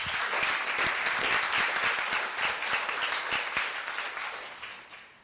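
An audience claps at an academic talk to welcome a speaker, producing dense, steady applause that fills the space and slowly fades toward the end.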